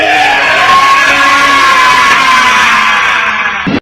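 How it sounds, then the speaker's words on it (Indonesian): A man in an Indonesian martial-arts drama lets out a sustained, loud bellow of rage, held steadily for several seconds and cut off abruptly at the end, with a crowd-like roar filling the background. "rasakanlah teriakanku ini."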